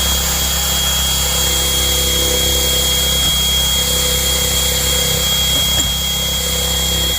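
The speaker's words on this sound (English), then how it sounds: "Sand the best you can. Make sure it's to the bare metal right there." A power sander grinds car body metal down to bare metal on a Hyundai Santa Fe 2023, a loud steady droning whine held without a break, with faint knocks partway through.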